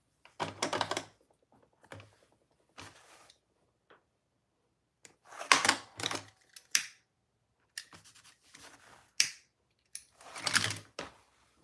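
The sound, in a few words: setting a rivet on a sewing project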